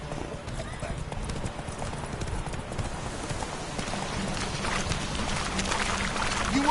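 Roach, Geralt's horse in The Witcher video game, gallops in steady rhythmic clip-clop hoofbeats against a low ambient rumble. The hooves grow slightly louder toward the end, and a voice can be heard over them.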